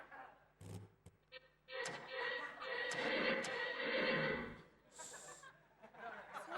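A horse neighs and whinnies loudly in bursts over several seconds, with a chuckling, laughing voice mixed in that may be a person imitating it during an Indonesian comedy show.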